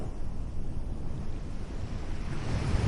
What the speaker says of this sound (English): You close your eyes and listen to the rhythm of the water.